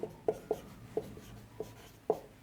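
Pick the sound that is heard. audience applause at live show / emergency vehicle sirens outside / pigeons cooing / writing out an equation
writing out an equation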